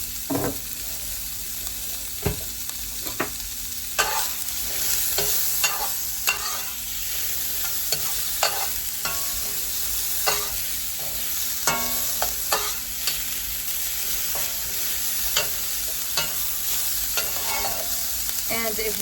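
Garlic, jalapeno and vegetables brown in a pan with a steady soft sizzle, while a utensil scrapes and stirs in irregular clacks and knocks, close and fairly quiet, with no talking.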